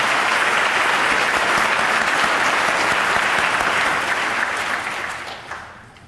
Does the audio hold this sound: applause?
yes